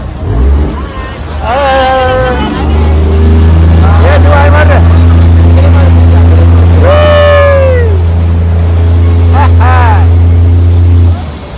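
A motorboat carries a group of passengers, its engine a loud steady low drone lasting throughout, with people talking over it close by.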